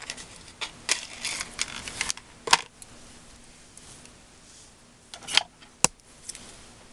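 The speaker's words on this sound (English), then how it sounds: "I have yucky scissors for this stuff that I use." Scissors snip paper leaves cut from stamped craft images, giving a few sharp, isolated clicks spaced seconds apart over a quiet background.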